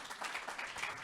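An audience at a talk or conference claps together in a brief, steady burst of applause that fills the whole moment, with no voices over it.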